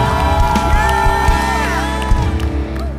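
Congregation at a church worship service cheers and whoops in praise over sustained music, the crowd voices blending into a continuous, lively swell.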